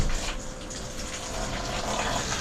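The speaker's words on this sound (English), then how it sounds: "Now she's gonna hit the back with water." Water from a hose sprays against the back of a truck bed topper and tailgate during a leak test, a steady hissing wash that continues evenly and fairly quietly throughout.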